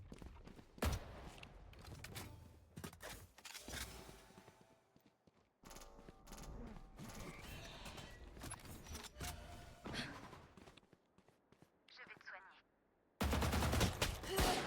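Bursts of automatic gunfire and weapon mechanisms from the video game Valorant ring out at varying distances, with a louder close volley at the end and voices talking now and then.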